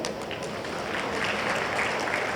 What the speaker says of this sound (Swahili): naomba mimi nipigie makofi